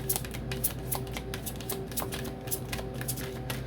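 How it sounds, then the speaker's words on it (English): A tarot love deck is shuffled continuously and close by, with quick rhythmic riffling and tapping of the cards and no talking. "You over here shuffling love deck."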